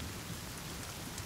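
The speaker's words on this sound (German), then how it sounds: "Ja, Regen, Regen, geil, perfekt." Steady rain pours in the survival game The Forest, a dense, even hiss of drops filling the whole moment with faint rumbling underneath and no voices.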